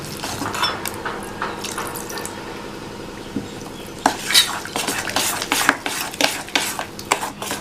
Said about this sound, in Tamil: கொஞ்சம் கொஞ்சமாக தண்ணி சேர்த்து இட்லி மாவு பதத்தோட தளர்வாக கரைச்சிக்கலாம்